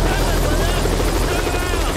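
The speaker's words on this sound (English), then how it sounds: "a helicopter on a dig site" A helicopter landing at a dinosaur dig site in the film Jurassic Park gives a loud, steady rotor roar and turbine whine filling the whole moment, with voices mixed in.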